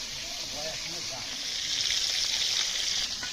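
Small hilsa fish frying in oil that the fish have released give a continuous bright hiss that swells louder toward the end, with a voice speaking faintly underneath early on.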